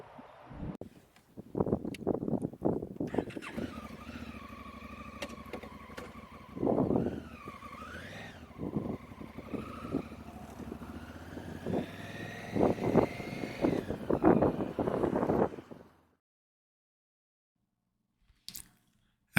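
A car drives a block down the main street of Erskine and turns onto Highway 12. Tyre and engine noise rises and falls in uneven surges, then cuts to near silence near the end.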